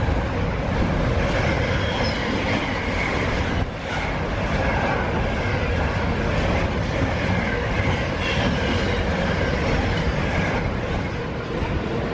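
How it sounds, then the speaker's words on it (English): Spare Viva Rail train pulling into a station platform, a steady loud rumble of wheels and rail noise throughout with faint clickety-clack and wheel squeal, no talk. "there's that spare Viva rail just coming in"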